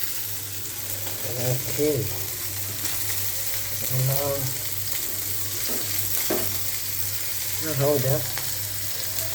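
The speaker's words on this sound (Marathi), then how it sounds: "माझे फ्राय होत आहे मासे" Fish sizzling steadily as it fries in a pan, a constant crackling hiss throughout with a low hum beneath, while a voice briefly speaks over it at a few points.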